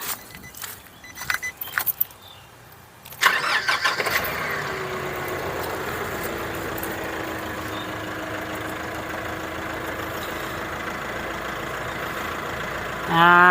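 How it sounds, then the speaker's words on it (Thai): Keys jangle close by before a Nissan Navara NP300 engine cranks and catches, then settles into a steady, even idle that runs for about ten seconds without talk. "โอเคเดี๋ยวจะสตาร์ทเครื่องยาวนะครับ เพื่อให้น้ำมันมันเข้าระบบ ได้เต็มร้อย"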